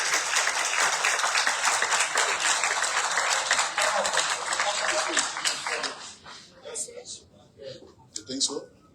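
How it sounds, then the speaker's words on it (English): Audience at an education initiative launch with Liberia's president claps steadily in a busy, sustained patter that fades out near the end, with voices speaking over and after it. "Let's clap for them as they come forward."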